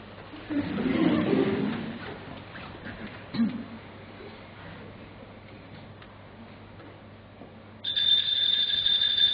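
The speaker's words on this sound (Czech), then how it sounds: "Slyšíte? Někdo zvoní." A bright, steady electronic doorbell ring sounds near the end, after quieter stretches with brief thumps and faint background noise, during a stage play, The Bald Soprano.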